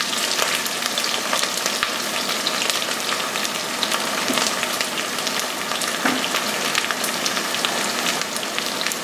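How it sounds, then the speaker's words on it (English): Chopped vegetables sweating in a hot pan for an octopus stew, a steady, close sizzle with scattered crackles and pops throughout and no talking. "I just want to sweat these off. I'm going to make them translucent."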